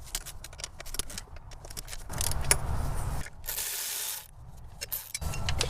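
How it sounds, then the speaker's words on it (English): A 3/8-drive ratchet with a short extension and deep 12mm socket breaking bolts loose on a Toyota 5VZ-FE 3.4L V6, heard as close, quick clicking bursts separated by brief pauses, with some metallic clatter. "I'm just using a deep 12mm socket with a short extension and 3/8 drive, and I'm gonna break these loose"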